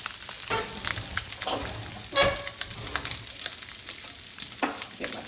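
Vegan chorizo browns on one side of a skillet with a steady hiss of frying, a few utensil scrapes and clinks cutting through, close and moderately loud with no talk.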